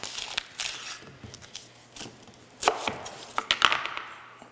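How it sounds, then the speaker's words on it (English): A knife slices through half a red onion on a cutting board in quick, close, crisp chops, an uneven run of sharp cuts with no talking. "we're going to take 1/2 of a red onion here, and I'm just going to slice this onion"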